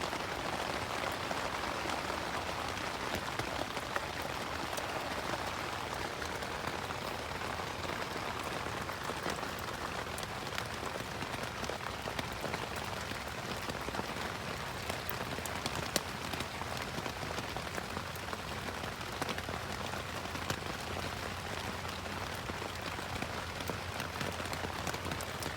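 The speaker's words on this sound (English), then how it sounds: "Raining hard." Heavy rain pours onto a bushcraft shelter overnight, a dense, constant hiss of drops drumming close on the cover, steady and loud throughout with no talking.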